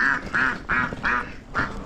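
A duck at a small home menagerie quacks in five distinct, evenly spaced calls over about two seconds, loud and close with no talking.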